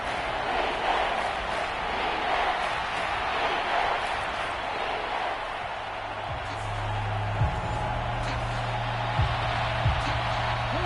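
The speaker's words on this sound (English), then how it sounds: "This crowd turning up the decibel level." Steady roar of a stadium crowd in a PS4 American football game on a third-and-long play, a dense wash of cheering that swells slightly, with a low hum and a couple of faint thuds near the end.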